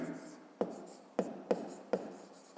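Pen strokes on paper while working a fifth-grade maths exercise, a few short scratching marks in an uneven rhythm, quiet and close.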